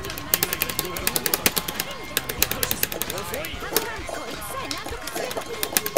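Rapid bursts of gunfire from the Gun Cannon in a Gundam video game, dense repeated shots in quick succession amid chaotic game effects and background noise, fairly loud and continuous throughout.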